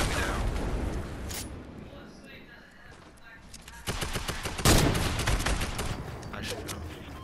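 Rapid bursts of gunfire in a Fortnite Battle Royale match, dense volleys and single shots, loudest in the second half, mixed with in-game effects and a player's voice.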